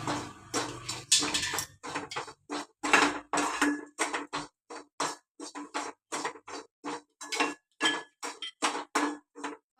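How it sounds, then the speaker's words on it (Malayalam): A metal spoon stirs mango pickle with crushed curry leaves in a pan, giving a quick series of sharp, close clinks and scrapes in an uneven rhythm, with no talk. "ഇളക്കി കൊടുക്കണം"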